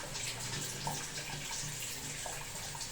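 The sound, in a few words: water running from an instant water heater tap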